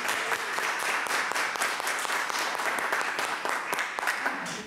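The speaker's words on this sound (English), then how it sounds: "But a round of applause." A round of applause from the audience at a city Public Art Commission meeting in Salinas, with dense, steady clapping throughout that stays fairly loud and close.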